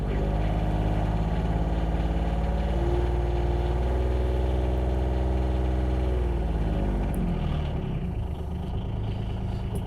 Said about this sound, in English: we'll put this thing in neutral here and rev it up a little bit.